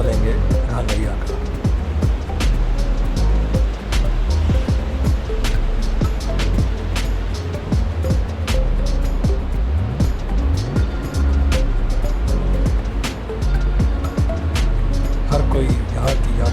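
A mountain river flows near a bridge on the trek to Ghangaria, a steady loud rushing wash with scattered clicks and thumps of footsteps and handling close by.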